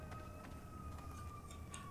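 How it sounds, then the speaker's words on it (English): Sirens sound outdoors during a recording, rising and falling faintly at a distance as steady wailing tones under ambient room noise. "There's so many sirens today, wow."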